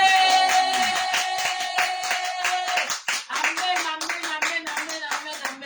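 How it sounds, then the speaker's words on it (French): A church congregation claps together in rhythm, acclaiming the Lord at a lively worship service, the sharp claps close and continuous while singing and voices carry alongside them. "Acclamons le Seigneur."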